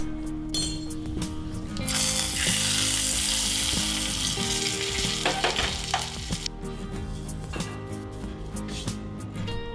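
Ghee sizzling on a bajra roti in a hot pan, with a loud bubbling hiss that swells in the middle and fades off, and light clinks of a utensil scattered through it.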